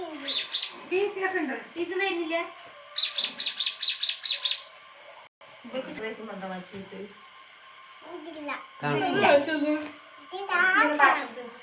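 Outdoor birds chirp in quick repeated bursts, loud and close, alternating with children and adults talking nearby; a sharp tweeting series stands out early on.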